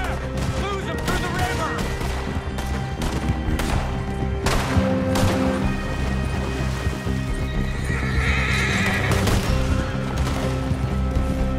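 A horse in Red Dead Redemption 2 neighs and whinnies amid galloping clip-clop hooves, with gunfire, crashes and game music filling the loud, busy chase scene.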